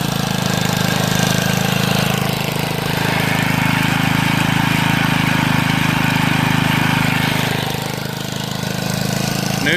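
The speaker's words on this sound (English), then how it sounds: "Run the tiller." A garden tiller's small engine runs steadily and loudly throughout, a constant close mechanical drone with no pauses and no talk.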